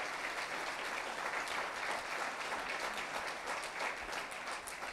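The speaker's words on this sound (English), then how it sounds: "when I say this, and you applaud" Sustained audience applause during a speech, with a steady wash of many hands clapping and no talk over it.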